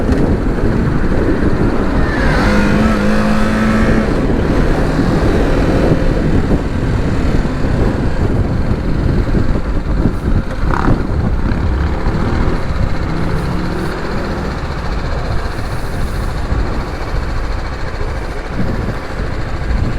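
A 2020 BMW G310GS small adventure motorcycle out on a ride, its engine and rushing wind forming a loud, steady roar that holds the whole way through with no voices.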